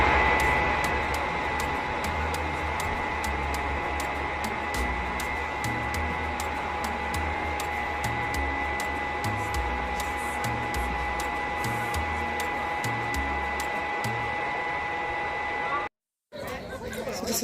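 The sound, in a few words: hood hair dryer running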